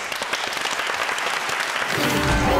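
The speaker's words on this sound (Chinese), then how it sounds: "掌声鼓励。" A studio audience on a Taiwanese television game show breaks into dense, lively applause, which gives way to a loud music sting at the end.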